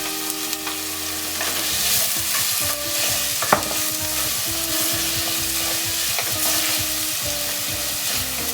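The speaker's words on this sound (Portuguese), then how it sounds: "vou colocar primeiro aqui a minha cebola, vou deixar ela dar uma caramelizada aqui junto com o alho e o gengibre" Onion, garlic and ginger sizzle steadily in a soapstone pot while being stirred, with rhythmic scrapes repeating over a constant close frying hiss and no talking.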